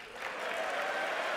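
An audience at a State of the Union address bursts into applause, a dense wash of clapping swelling quickly and holding steady.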